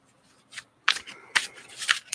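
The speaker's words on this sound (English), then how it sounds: "just wait there patiently while I shuffle the cards." A deck of cards being shuffled in a few quick riffling bursts with short pauses between them, close up and fairly quiet.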